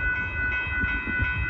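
A northbound Amtrak Texas Eagle passenger train rolls past nearby at a road crossing in Austin, Texas, with a steady rumbling roar and sustained whistle-like tones overhead, continuous and loud.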